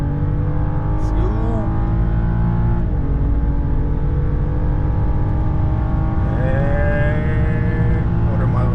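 A BMW N55 fitted with a Burger Motorsports intake pulls hard at full throttle, its engine drone climbing steadily with gear shifts breaking the rise, loud and close from inside the car, a voice speaking briefly over it.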